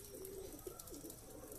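A Lakka fantail pigeon gives a soft, close coo lasting about a second over a low background hum, with no voices.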